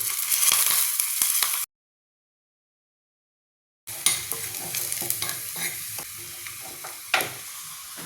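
Mustard seeds, onion and curry leaves fry in coconut oil for paniyaram chutney, giving a steady close sizzle with stirring scrapes, cut by a stretch of silence before the frying resumes.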